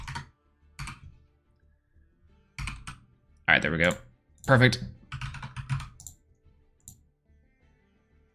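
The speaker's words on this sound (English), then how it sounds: "So much typing." Computer keyboard typing during a Yu-Gi-Oh! Master Duel session, bursts of crisp close key clicks spread across several seconds, with someone talking briefly in between.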